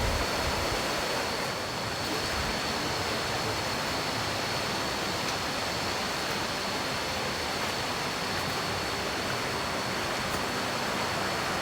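Khlong Phlu waterfall on Koh Chang, Thailand, roars as a loud, constant wash of falling water, dense and unbroken from start to finish, with no voices.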